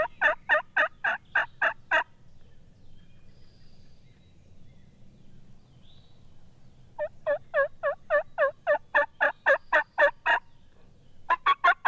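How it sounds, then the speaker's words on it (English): A wild turkey gobbler gobbling within about twenty yards, loud rapid bursts of gobbles close by in the open, with a quiet gap between calls. "the gobbler is inside 20 yards"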